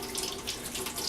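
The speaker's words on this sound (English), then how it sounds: "I want to rinse these again." Tap water runs steadily over vegetables being rinsed, a short, even splashing hiss at moderate volume with no voices.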